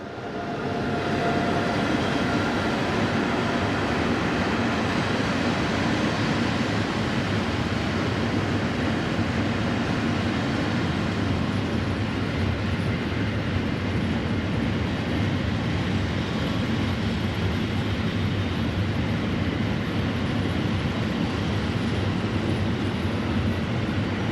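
A German Class 145 electric locomotive hauls a train past on the Hannover to Magdeburg main line, a steady broad rush and hum of wheels on rails that swells slightly and holds for the whole stretch, with no talk.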